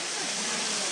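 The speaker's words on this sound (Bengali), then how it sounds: "আমরা এখন যে ঝর্ণাতে আছি, ঝর্ণাটার নাম হলো সিয়াম ঝর্ণা।" Siam waterfall at Sajek in the hill country, a dense, steady roar of rushing water close by, continuous with no talk.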